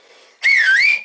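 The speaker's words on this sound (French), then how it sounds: "Moi, je siffle" A person whistles a single loud, sliding note that dips and rises again, up close and clear, after a brief moment of quiet.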